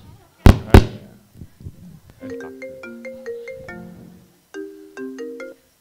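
Telephone ringtone of an incoming call playing a bright electronic melody in two phrases, preceded by two sharp loud thumps, with faint murmurs in the room.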